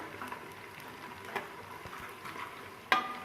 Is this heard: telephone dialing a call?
no